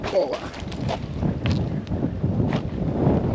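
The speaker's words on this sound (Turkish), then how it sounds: "Bayağı bir rüzgar var." Steady wind rushes and buffets the microphone outdoors on a boat at sea, a continuous broadband roar with gusty swells and no pauses.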